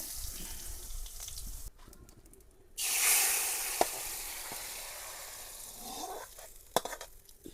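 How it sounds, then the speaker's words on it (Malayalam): Onion dropped into hot oil with mustard seeds bursts into a loud close sizzle that slowly settles into steady frying, with a few sharp pops and stirring clicks and no voices. "ഉള്ളി ഇട്ട് കൊടുക്കുന്നത് കേട്ടോ"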